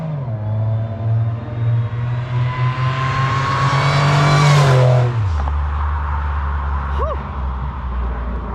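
Supercharged Pontiac Bonneville SSEi engine revs hard during a standing burnout, climbing in pitch to a loud peak before dropping to a lower rumbling idle, with faint talk in the background.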